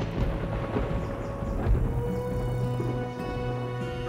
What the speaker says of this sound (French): t'as pas peur de l'orage?